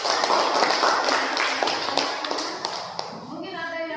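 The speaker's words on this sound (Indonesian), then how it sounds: "kita berikan aplaus untuk kelompok" A classroom gives a student group a short burst of clapping and tapping, fairly loud and close at first, then thinning out and fading, with a voice starting to speak as it ends.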